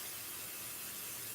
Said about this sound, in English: I'm just spraying it with the pixie spray.